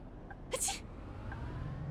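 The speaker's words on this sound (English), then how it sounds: "she just sneezed" A passenger sneezes once inside a bus in the video game Bus Simulator 18, a short, sharp sneeze heard over a quiet, steady engine hum.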